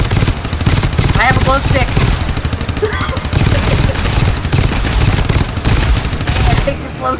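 Pincer turrets in the co-op shooter GTFO fire a dense, continuous stream of rapid automatic shots, loud and close, while players talk over the gunfire throughout.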